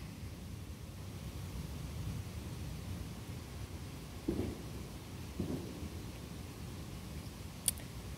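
Thunder during a severe July 2021 thunderstorm with constant lightning in southeastern Pennsylvania: a low continuous rumble beneath a steady rain-like hiss, with a couple of brief louder bursts midway and a sharp crack near the end.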